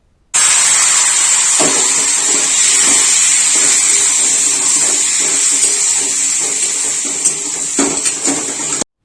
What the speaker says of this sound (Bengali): এবার ফোড়নে তরকারিটা দিয়ে দিতে হবে